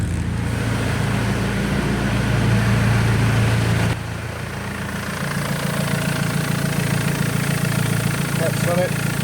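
A BMW X3 engine idles while warming up after a coolant change, a steady close mechanical drone that drops slightly in level partway through, with someone talking nearby.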